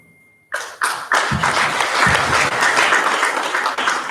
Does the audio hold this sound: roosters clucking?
no